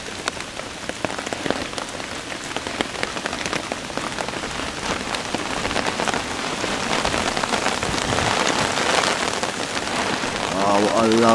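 Steady rain patters down on a woodland hammock camp while wind moves through the treetops, the drops dense and close and the wash growing louder toward the end, where a voice briefly comes in.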